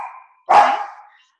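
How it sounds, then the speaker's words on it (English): A single loud, close dog bark following a fading tail of a previous bark, then quiet, from dogs in a home during a call. "my dogs are barking"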